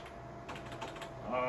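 Key presses on a Logitech G910 computer keyboard, a quick run of soft clicks and taps close to the mic, growing busier and slightly louder toward the end.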